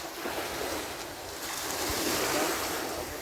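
Steady washing surf of high-tide sea waves with a breezy hiss, continuous and fairly loud throughout, no voices.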